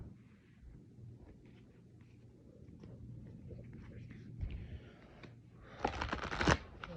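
A deck of oracle cards is shuffled close by, with soft riffling and slapping that grows into a louder burst near the end over a quiet room hum.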